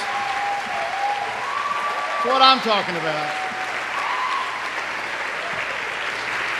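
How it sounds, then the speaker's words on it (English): A crowd applauds standing fathers and grandfathers at a Dairy Festival Pageant, with continuous clapping while a voice speaks over it near the middle. "Round of applause."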